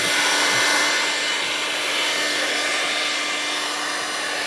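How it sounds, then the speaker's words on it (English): A heat gun blows hot air over window tape, a loud steady whirring roar that stays close and unbroken throughout, with no speech. "I like to heat it up with a heat gun and just rub it on."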